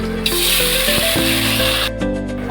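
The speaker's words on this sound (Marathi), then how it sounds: "आता 1 तांबे पाणी ओतून घेऊया आपण." Water poured into hot oil with garlic and cumin for Maharashtrian gargatta sizzles loudly and continuously in a broad hiss, then cuts off abruptly, leaving a softer simmering crackle.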